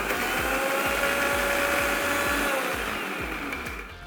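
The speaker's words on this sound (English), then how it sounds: "Let's again blend the mixture together." Blender whirring through homemade mouthwash with a cinnamon stick, a steady loud motor hum with a rhythmic chopping pulse, running alone and easing slightly toward the end.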